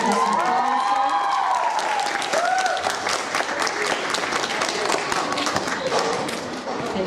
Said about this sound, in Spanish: Y le damos un aplauso a nuestro